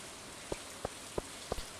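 Rain in the video game Stardew Valley, heard as light steady rain hiss with five soft, evenly spaced drop-like taps about a third of a second apart, with no talk.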